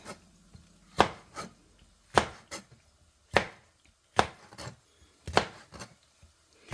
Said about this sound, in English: we're gonna slice this one as well